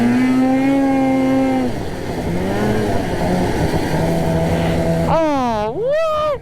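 Snowmobile engine on a snowy mountain ride, held at a steady tone, easing off, then revving hard in two rising and falling surges as the finger throttle is worked.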